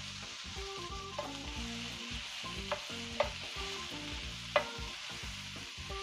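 Mixed vegetables with garlic, onion and light mixed spice frying in a pan, a soft sizzle under a steady tonal hum, punctuated by a few clicks and scrapes of stirring, no one speaking.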